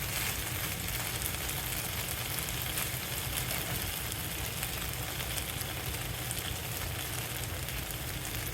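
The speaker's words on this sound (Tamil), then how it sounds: "உருளைக்கிழங்கு நல்லா மொறுமொறுன்னு வர்ற வரைக்கும் வதக்கணும்" Potatoes frying with chicken 65 masala until crispy, making a dense, even, continuous sizzle and crackle close by that holds steady throughout, with no voices.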